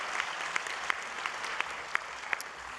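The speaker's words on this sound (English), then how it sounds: "let's give Abigail a round of applause" Scattered applause in a Los Angeles County Board of Supervisors meeting chamber for a second-grade student, sparse hand claps with a few sharper individual claps standing out, moderately faint and steady for a few seconds.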